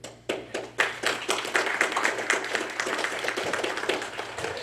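Applause at a Powerline graduation ceremony for graduates and their families: a dense crowd of hands clapping steadily and briskly, fairly close and full, with no talking over it.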